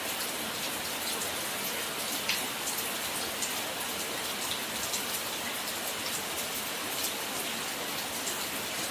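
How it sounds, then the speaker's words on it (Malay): Steady rain pours down on an afternoon near an oil palm plantation, a dense continuous hiss of drops on surfaces, even and close with no pauses. "Hujan yang indah di petang hari."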